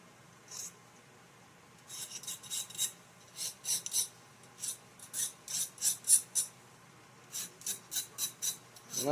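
A light, fine file smooths an edge on a Homelite Super XL chainsaw part in short rasping strokes, grouped in quick bursts with brief pauses between, close and fairly quiet, no talking.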